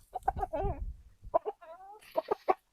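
Close rooster clucks and short throaty calls in quick bursts, with a brief drawn-out note in the middle and a few more clucks at the end.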